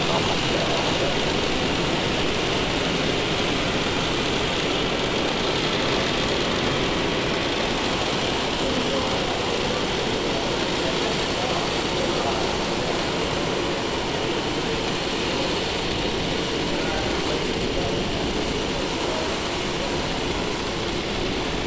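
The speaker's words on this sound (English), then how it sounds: "we have just had liftoff of our Falcon 9" SpaceX Falcon 9 rocket engines at liftoff, a loud, unbroken broadband roar that holds steady the whole time and sounds far off.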